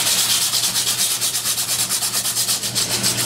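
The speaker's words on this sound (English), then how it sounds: "Use your emery cloth," Emery cloth rubbed around a metal pipe to clean off paint and rust before a leak repair kit is applied: fast, loud, rhythmic rasping strokes, close up and without speech.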